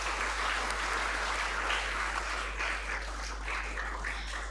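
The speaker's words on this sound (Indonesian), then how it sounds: "Ayo kita tepuk tangan." A church congregation at a GBKP service in Yogyakarta claps together in a sustained, dense round of applause that holds steady throughout, with a faint low hum underneath.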